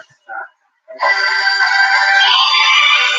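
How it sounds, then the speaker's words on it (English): A cell phone rings with an incoming call at a police district station, a bright electronic tone that starts after a brief chirp and sustains loudly and steadily to the end. "I was getting a phone call at the time."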